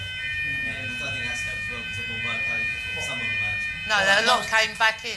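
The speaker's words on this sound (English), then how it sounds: "That's a fire alarm." A fire alarm sounding inside a building, with a steady, piercing electronic tone that holds throughout at moderate level beneath people talking nearby.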